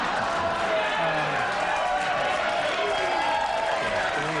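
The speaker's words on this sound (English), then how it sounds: "Why do they always applaud you and so rarely do they applaud me?" A studio audience at the Late Night with David Letterman taping applauds with a steady wash of clapping and crowd noise. Scattered cheers rise from the crowd, and voices can be heard over the applause.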